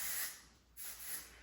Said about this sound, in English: I'm gonna take the dry texturizing spray, and I'm just gonna take little sections.